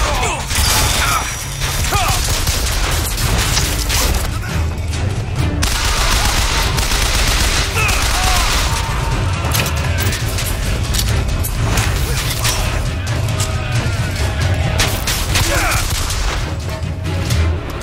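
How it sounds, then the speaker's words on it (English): Dense, continuous gunfire from a firefight in BioShock Infinite, with rapid machine-gun bursts, impacts and clanking mechanisms piled into a loud, unbroken din. "Machine gun."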